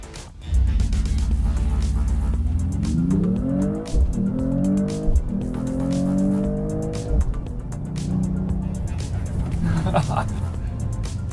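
A Mercedes-AMG E 53 Hybrid 4MATIC+ launching from a race start, heard from inside: a loud engine roar rising through several gear changes with a steady drivetrain rumble, while people talk over it.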